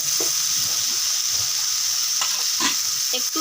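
Ground coriander, cumin and chilli powder stir-fried in hot oil for a Bengali raw banana curry, giving a steady close sizzle with repeated scraping strokes of a spatula against the pan.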